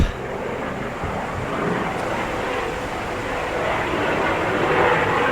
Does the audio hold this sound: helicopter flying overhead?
yes